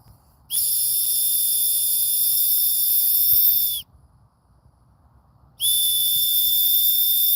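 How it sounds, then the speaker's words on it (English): A shrill, steady whistle at a dog park sounds in two long blasts separated by a short silence, loud and close. "Watch the difference between the whistle."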